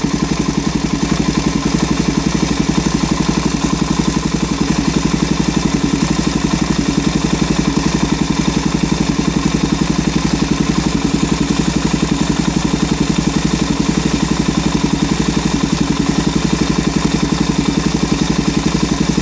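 A motorcycle fitted with a stubby exhaust and a manual cam chain tensioner idles steadily and loudly, its cam chain rattling as a constant clatter over the engine's low, even throb, with no break throughout.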